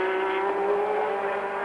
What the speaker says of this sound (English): Williams car with its V6 Honda engine